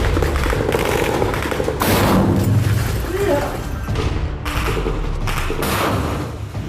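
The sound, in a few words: RPG rockets fired at tanks, loud blast and gunfire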